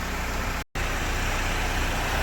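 A 2015 GMC Terrain's warmed-up 2.4L engine runs steadily, a loud, broad, constant noise filling the whole clip, broken only by one brief dropout near the start.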